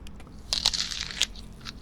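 Crisp Montenegrin pizza with a crunchy crust is bitten into, giving a few sharp close crunches and crackles in quick succession before a quieter final crunch.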